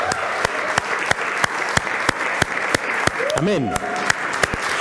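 A church congregation claps for the King during a sermon, a steady rhythmic clap at a regular beat over a constant wash of applause, with a voice speaking briefly over it near the end.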